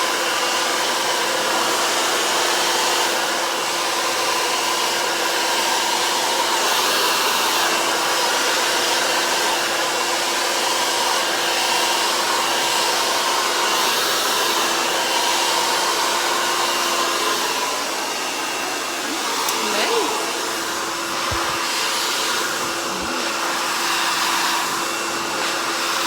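A hair dryer blows out natural hair for a silk press, roaring loud and steady for the whole stretch, with brief shifts in pitch as it moves; no one speaks.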